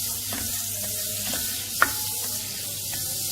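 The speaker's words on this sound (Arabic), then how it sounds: "بعد ما ذاب الزبد عندي" Butter melting and sizzling in a pot as the base for a creamy white soup, a steady soft frying hiss with faint stirring scrapes and one brief clink, no talking.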